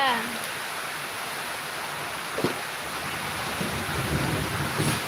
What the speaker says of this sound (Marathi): खूप जोरदार असा पाऊस चालू झालेला आहे